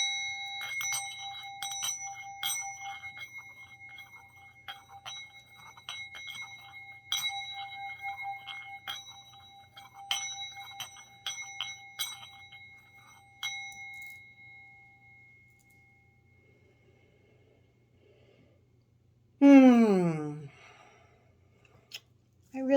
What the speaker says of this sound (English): I really do love that sound bowl